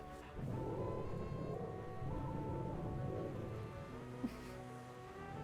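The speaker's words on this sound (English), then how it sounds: "That's thunder, all right." Rumbling thunder in the Wallace & Gromit's Grand Adventures video game, a steady low roll lasting several seconds with a sharp crack near the end, mixed with a rain-like wash.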